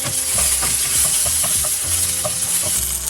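Red chili, slit green chilies, nigella seeds and black cumin seeds fry in hot oil, a steady sizzle and crackle with repeated soft scrapes and knocks of a stirring spoon in the pan, close up with no talking.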